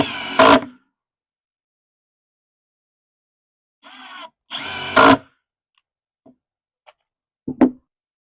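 Hercules cordless drill with a 4Ah or 2.0 battery driving construction deck screws into wood, two short close bursts of motor whine a few seconds apart, followed by faint ticks and a brief final whir.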